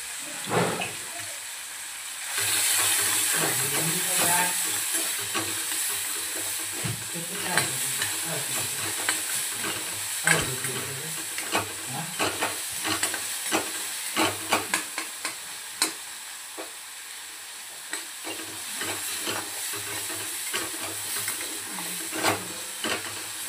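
Onion sautés with salt and turmeric in a pan for mutton sukka, with a steady hiss and sizzle punctuated by repeated scraping stirs of a spatula.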